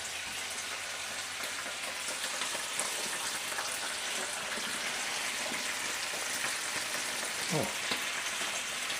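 Smoky frankfurters and bacon fry in a pan with a steady, close crackling sizzle that lasts the whole time. A man gives a brief exclamation over it.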